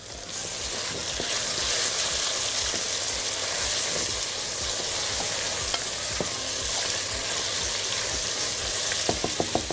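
Whole spices sizzling and toasting in a hot pan with onion and potatoes, a steady close frying hiss with occasional stirring scrapes and clicks, no talking.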